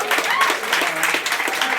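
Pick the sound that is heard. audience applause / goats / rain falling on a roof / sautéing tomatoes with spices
audience applause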